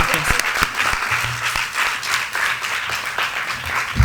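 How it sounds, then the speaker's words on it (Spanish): Audience applause for a speaker at a contemporary art talk, a steady close wash of many hands clapping throughout, with a faint voice murmuring underneath. "El aplauso es para Pablo Helguera."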